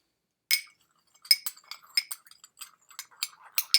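A spoon clinks against a glass while salt is stirred into water, giving a series of bright, irregular taps after a single opening clink, close and clear against silence.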